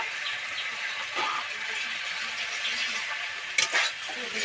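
Fried potatoes are tipped into a pan with a spoonful of hot ghee and stirred, giving a steady close sizzle with a soft scrape and a sharper clatter near the end.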